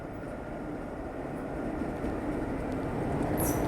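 The Kasganj Farrukhabad Express, train 15042, approaches on a single line section, a steady low rumble that swells gradually louder as it nears, with a brief high squeal at the end.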